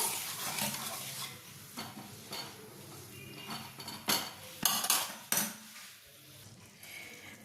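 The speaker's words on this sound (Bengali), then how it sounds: "নুনটা দিয়ে একবার মিক্স করে নেব" A utensil scrapes and clinks against a pan while salt is stirred into a butter garlic sauce for fish, with irregular metallic taps and scrapes over a soft sizzle, close and clear.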